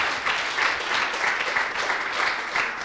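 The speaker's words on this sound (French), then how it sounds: "Je pense qu'on peut applaudir Armel, hein." Audience applause at an eco-responsible sailing conference, a steady dense patter of many hands clapping close by, sustained evenly throughout with no voices over it.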